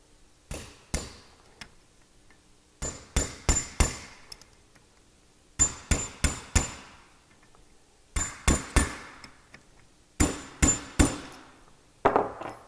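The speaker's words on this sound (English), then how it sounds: "there isn't a job you can do on an automobile that doesn't involve a hammer" Sharp metallic hammer strikes on a car suspension coilover locking ring in quick bursts of three or four, separated by short pauses, ringing briefly in a quiet space.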